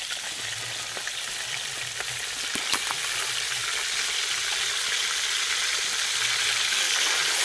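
A pond crab frying in hot mustard oil and being stirred, giving a loud, continuous close-up sizzle with occasional soft scrapes and clicks of the spoon, and no voices.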